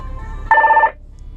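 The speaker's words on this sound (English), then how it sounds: "I'm going to go ahead and ignore that phone call" A phone call rings through the car stereo of a custom Jeep Cherokee Sport XJ, a short electronic ring burst of steady tones lasting under half a second, loud against a low background hum, with no talk.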